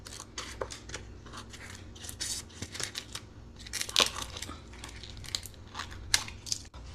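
Scissors snip steadily at plasticky glue parts along the rim of a paper bowl from a thrifted craft kit, with quick close cuts and soft crinkling of paper in a quiet room.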